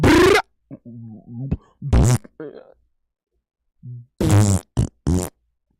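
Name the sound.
fart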